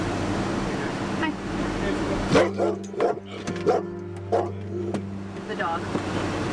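A retired Belgian Malinois barks in several sharp, loud bursts close by, with whimpering between barks and a steady engine hum underneath.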